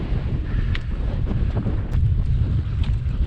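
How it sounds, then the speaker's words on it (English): Strong winter wind on the summit of Pen Y Fan roars across the microphone in heavy, continuous low buffeting, loud and steady with surging gusts and no talking. "you'd realise just how windy it is up here"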